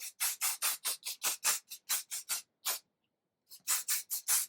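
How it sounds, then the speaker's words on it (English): Hairspray hisses from an aerosol can during hair curling, in a rapid series of short bursts, close and loud, pausing briefly before several more quick sprays. "I'd spray it again with some hairspray"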